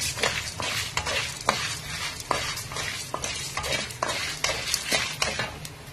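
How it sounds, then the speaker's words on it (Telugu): Dried red chillies fry in a pan with a constant close sizzle, broken by repeated sharp scrapes and taps of a spoon stirring against the metal. "ఎండుమిర్చిని కూడా కొంచెం వేపుకున్నాం"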